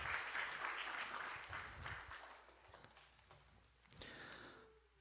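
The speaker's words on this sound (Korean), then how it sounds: "네, 모두 박수로 축하해 주시면 고맙겠습니다." Audience applause fills a university degree-conferral ceremony, a dense, steady patter of many hands clapping that fades slightly, then swells briefly near the end.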